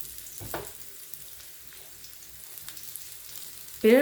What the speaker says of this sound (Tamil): ஒரு பக்கம் இது நல்லா ஃப்ரை ஆகி வரட்டும் சிம்லேயே வச்சு நல்லா ஃப்ரை பண்ணிக்கலாம்